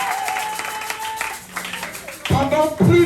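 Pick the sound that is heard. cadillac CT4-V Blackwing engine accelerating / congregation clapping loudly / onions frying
congregation clapping loudly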